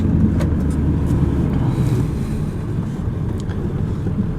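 A pickup truck drives along a patched, potholed city road, heard from inside as a loud, steady low engine and road rumble with occasional knocks.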